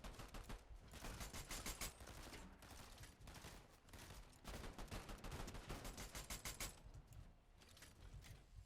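Automatic gunfire in a Fortnite match, rapid bursts of shots crackling in long runs with short gaps, faint and distant, with no talk.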